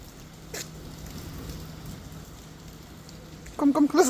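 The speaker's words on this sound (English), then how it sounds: "Rain too much." Heavy rain falls steadily in a garden, a dense soft hiss close around. A voice speaks briefly near the end.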